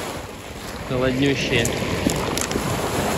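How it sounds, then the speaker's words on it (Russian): Black Sea waves wash and rush over pebbles close by at Adler, with steady wind noise on the microphone while a person talks briefly. "Иди сюда, волна."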